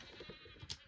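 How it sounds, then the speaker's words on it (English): A goat or sheep bleating in the video game Lucid Blocks, one short bleat near the end of the moment, over a soft, busy game background. "here's a goat or sheep"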